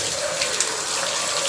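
Running water rinsing soap off a dog during a bath at home, a steady close hiss of flowing water with small splashy flickers, continuous throughout.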